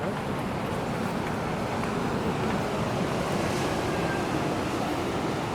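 Ocean surf rolling onto Bondi or Manly beach in Sydney, a steady, loud broadband wash of waves with wind buffeting the microphone throughout and no clear talking.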